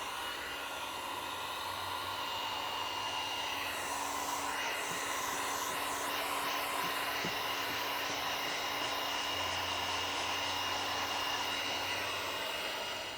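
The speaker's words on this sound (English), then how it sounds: "We're gonna go ahead and do some pulse heating." A heat gun blows steadily and loudly, pulse-heating vinyl wrap on the front door of a Tesla Model 3 Highland. The airy roar continues throughout with slight shifts in tone.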